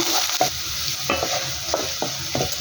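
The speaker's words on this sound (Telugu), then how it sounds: "ఇప్పుడు ఉల్లిపాయ ముక్కలు, పచ్చిమిర్చి ముక్కలు, కరివేపాకు మిక్స్ అయ్యేలాగా కలిపేస్తున్నా" A spoon scrapes through onions, green chillies and curry leaves sizzling in hot oil in a pan for okra pulusu, making rhythmic stirring strokes over a steady frying hiss, close by and without talk.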